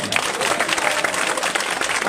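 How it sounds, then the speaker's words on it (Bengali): Crowd applause honouring a football runners-up team at a gathering, dense rapid clapping from many hands held at an even, fairly loud level throughout. "আমরা প্রথমে সেই রানার্স আপকে অভিবাদন জানাই করতালির মাধ্যমে"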